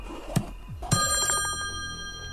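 A telephone rings in the video game Slayaway Camp, two sharp electronic bell rings a half second apart, the second trailing into a sustained tonal ring, loud and alone.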